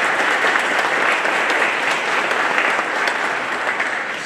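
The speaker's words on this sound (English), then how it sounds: "So let's give him a warm round of applause as well." An indoor audience claps in steady, dense applause throughout, loud and sustained with no voices standing out.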